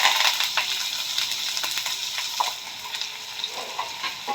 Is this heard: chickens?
no